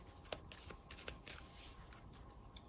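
A deck of Marvel United game cards being shuffled by hand, a faint, continuous riffling and sliding with soft slaps, close by.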